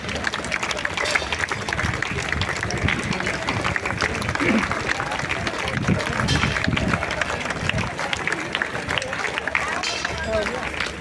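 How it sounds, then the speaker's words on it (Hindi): An audience applauds at a BJP political event held as a tribute to Syama Prasad Mukherjee, a continuous, fairly distant wash of clapping mixed with crowd murmur, with voices heard over it. "महिलाएं तो तेज बजा रही है तालियां"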